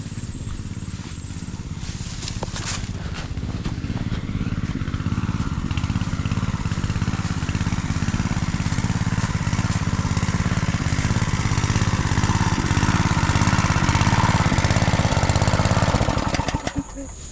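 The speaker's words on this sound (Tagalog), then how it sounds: "Galing umandar ng Robin natin" A Robin small engine is started up and runs continuously at a loud, steady, rough idle with a rapid rhythmic chugging, close by and dominating throughout before cutting down at the end.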